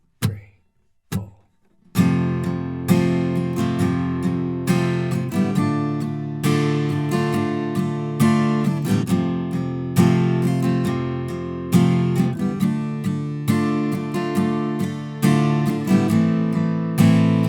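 Strummed acoustic-style guitar chords play the intro of a song, a few tentative strums then steady rhythmic chording with ringing harmonics, loud and alone with no voice over it.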